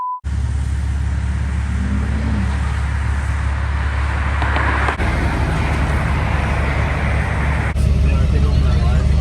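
A Cateye Chevy truck does a burnout, its engine roaring loud and steady close by, with a sharp jump in intensity near the end. Voices can be heard under the engine.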